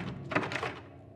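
A short knock on a door in the video game Silent Hill 2, a single muffled thunk with a couple of quick taps, close and fairly soft.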